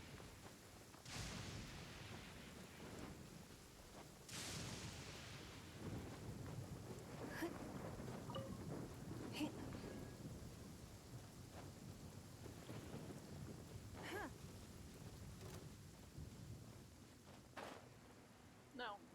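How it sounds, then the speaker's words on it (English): A thunderstorm in the video game Genshin Impact, with steady rain hiss and several sharp thunder cracks that roll off, soft and distant under faint talking. "thunder is already coming for my soul"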